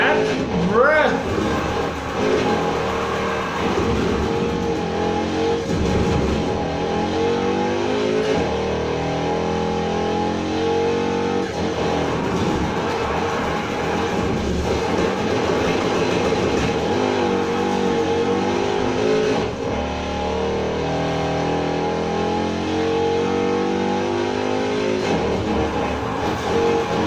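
A Mercedes-AMG G 63 from 2017 in the racing game Need for Speed Heat, its engine droning and revving steadily as the car drifts, loud and continuous with a voice talking over it.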